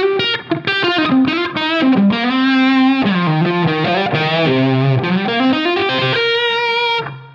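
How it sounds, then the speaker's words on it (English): An overdriven electric guitar with a delay effect on a Line 6 Pod Go, dialed for a Billy Gibbons-style tone, plays a continuous melodic line, notes smearing into faint repeating echoes that trail behind each phrase. "liked what this delay did to the sound"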